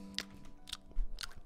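Three sharp, close, wet smacks of gum being chewed, spaced about half a second apart over a faint steady hum, with no talking, in a NoPixel GTA roleplay scene.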